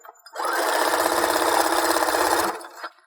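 Sewing machine running steadily, stitching a seam on homemade cheer or dance shorts: a continuous close whirring hum of about two seconds that stops abruptly, with no talk.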